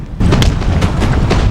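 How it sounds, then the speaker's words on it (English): A deep boom of gunfire erupts in a video game battle, followed by a dense rumbling roll of shots, loud and close. "Gunfire broke the silence."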